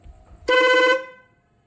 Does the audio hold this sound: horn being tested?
yes